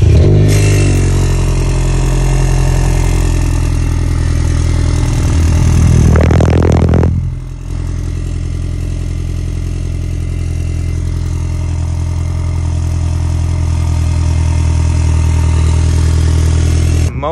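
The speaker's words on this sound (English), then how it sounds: "the muffler on that car just sounded really bad" A BMW F30 328i with a bad, rough-sounding muffler idles loudly, climbs into a sharp rev around the middle, then drops back to a steady, raspy idle, close by with no talk.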